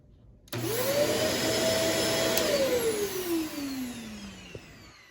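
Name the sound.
Shark Navigator Swivel vacuum cleaner running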